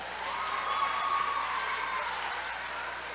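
Audience applauding a contestant at the Miss USB 2016 pageant final, a steady crowd-wide clapping wash with some cheering, moderately loud and sustained, no speech over it.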